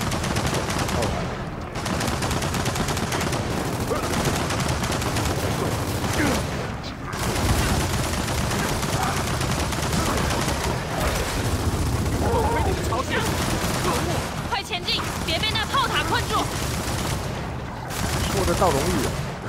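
Turret gunfire in Gears of War 4 rattles in dense, sustained bursts amid chaotic combat noise, with voices speaking over the fighting throughout.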